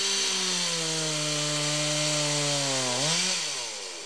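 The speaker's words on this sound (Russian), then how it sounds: "Звук бензопилы не умолкает на этой площадке ни на день." A petrol chainsaw carves blocks of ice weighing about 50 kilograms for holiday ice sculptures in Noyabrsk, with a loud, close engine drone that revs up briefly near the end and then eases off.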